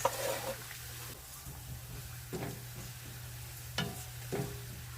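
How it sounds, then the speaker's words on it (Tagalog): Garlic and onion sautéing in a pan for spicy chicken pastil, a faint low sizzle under a steady hum with a few sharp stirring knocks, no talk. "Igigisa na natin yung ating bawang at ang ating sibuyas."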